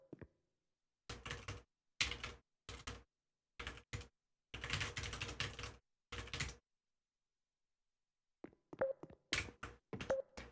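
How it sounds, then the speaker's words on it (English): Hard, fast typing on a computer keyboard comes in several loud bursts of clattering keystrokes, split by silent gaps. A sparser run of taps follows near the end, with no talking. "Typing hard."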